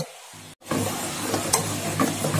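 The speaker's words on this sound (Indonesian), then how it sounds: "kita aduk sampai tercampur rata saja ya teman-teman ya." Bika ambon cake batter being stirred in a bowl, a steady soft swishing and wet scraping that continues after a brief pause, close and alone with no talk.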